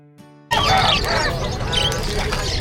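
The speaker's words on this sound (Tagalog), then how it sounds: "marami rito ng ibon si Boss Yono mga kapatid" A dense crowd of caged birds chatters and squawks loudly and continuously at the Bocaue pet market, bursting in suddenly after a brief near-silent moment with a faint tone.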